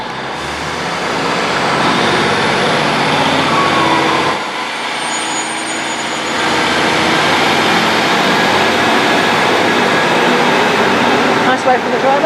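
A Great Western Railway class 153 diesel unit departs Paignton station, a loud, steady engine drone near the listener that dips briefly, then builds again and holds.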